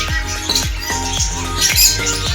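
A lovebird in an aviary at Kushida Green Valley Park, Harishchandrapur, gives a rapid run of sharp, harsh squawks, roughly a dozen close together, loud and near amid busy background chatter.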